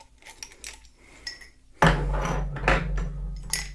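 A wrench unscrews a bolt from the bottom of a projector clamp mount on a truss. Light metallic clinks and taps come first, then a sudden, louder burst of close metal clanking and scraping.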